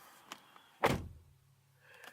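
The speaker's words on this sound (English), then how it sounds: "Really solid door shut, I do like that." A Lexus UX200 car door shuts with a single solid, close thunk, framed by faint light clicks before and after, with no talk.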